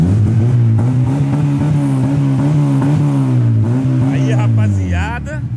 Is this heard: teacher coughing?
no